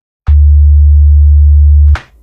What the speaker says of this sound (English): As you can hear, this is just a simple sine wave.